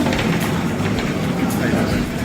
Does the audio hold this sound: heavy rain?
no